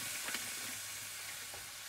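Steady close sizzle of gluten-free vegan béchamel in a pan as it is stirred, a continuous hiss with a few faint scrapes and no talk.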